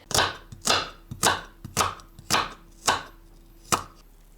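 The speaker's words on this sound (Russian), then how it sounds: "Я шинкую капусту, хочу ее потушить." A knife shreds cabbage on a board in a steady series of about eight crisp chops, close and loud, with no talking.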